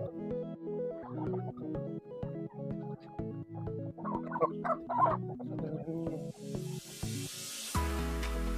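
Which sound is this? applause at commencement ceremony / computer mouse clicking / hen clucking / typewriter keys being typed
hen clucking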